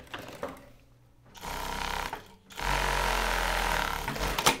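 A sewing machine stitching the cuff of a women's shirt whirs close by in two bursts, a shorter one and then a longer, louder run, with light handling noises before and between them.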